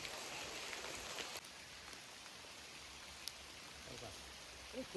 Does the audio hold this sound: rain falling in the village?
yes